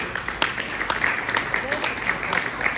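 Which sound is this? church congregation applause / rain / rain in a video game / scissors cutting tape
church congregation applause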